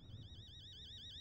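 Alarm going off during the horror video game Fears to Fathom, Home Alone episode: a faint, continuous warbling electronic tone that wavers rapidly up and down, heard alone.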